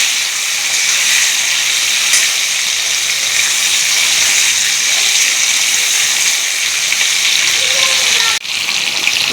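Drumsticks dusted with turmeric fry in hot oil, a loud, even hiss of sizzling that holds steady nearby, with one brief clatter near the end.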